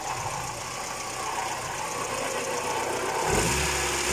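A car's 2E engine, newly converted from a contact-point to a CDI distributor, idles steadily at close range with a low mechanical rumble, then swells louder near the end as it is revved.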